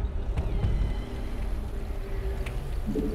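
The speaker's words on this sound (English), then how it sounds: "A ship's engines are firing up and the infested are on their way" Ship engines firing up in StarCraft 2 make a steady, loud, low rumbling drone that holds throughout with little change, with a few faint higher tones on top.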